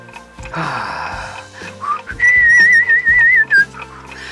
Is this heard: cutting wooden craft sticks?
no